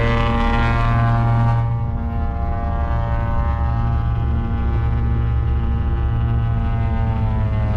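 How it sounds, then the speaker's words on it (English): A twin-engine aircraft doing an engine run-up on the ground, a loud sustained droning hum with steady harmonic tones that shift slightly partway through, heard from inside a nearby cockpit with no talk. "there's another dual engine doing a run up here"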